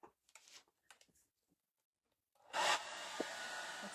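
A hair dryer blasts on near the end after soft rustling and handling noises, a close whooshing airflow drying fresh paint on a thrifted glass jar or wood box.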